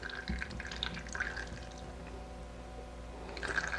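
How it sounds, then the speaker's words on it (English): Water displaced by a fishing lure being pushed down into a water-filled tube runs into a cup, giving a soft, steady trickle and dripping with no voices. "as it goes in and displaces the water will run into the cup"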